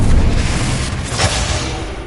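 A Confringo blast in Hogwarts Legacy goes off as a loud booming explosion with a heavy low-end thump at the start and a second burst about a second later, then a rumbling decay.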